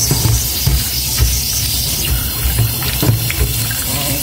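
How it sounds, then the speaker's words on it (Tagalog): Water pours steadily from a tap into a bowl for soaking sliced bitter melon with salt in a home kitchen, a close, continuous gushing hiss lasting a few seconds. "Ibabad ko naman siya sa asin tsaka sa tubig."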